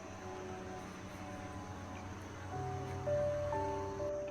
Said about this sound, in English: that's the man spraying the mosquito smoke to suppress the mosquitoes on the island